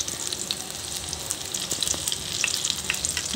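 Eggplant omelette frying in a pan while being mixed, a loud close-up sizzle with crackling pops and occasional scraping stirs, with no talk.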